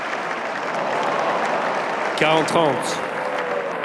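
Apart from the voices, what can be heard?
applause after Nadal's running forehand winner at Roland-Garros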